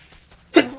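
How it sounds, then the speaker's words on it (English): A single short, sharp sneeze bursts out near the end after quiet room tone, close and fairly loud. "A little bit of a sneeze there."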